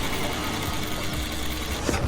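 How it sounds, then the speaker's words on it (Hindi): Sewing machines run steadily inside a factory, a dense continuous mechanical whir and rattle filling the space at constant loudness with no talk. "कारखाने के अंदर सिलाई मशीनों का शोर है।"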